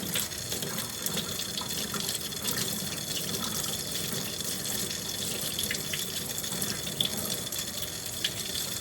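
Tap water running into a sink to rinse beef bones, a steady close splashing stream with small irregular spatters throughout, no voices.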